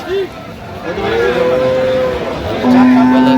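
Dairy cows and calves moo loudly and close at the Aftabganj cattle market in Dinajpur, with several long tonal lows, one rising call at the end, over faint crowd babble.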